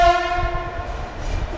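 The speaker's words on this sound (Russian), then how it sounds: "Поезд." A passing train sounds its horn, a loud steady tone that holds and then fades over the deep rumble of the rolling cars.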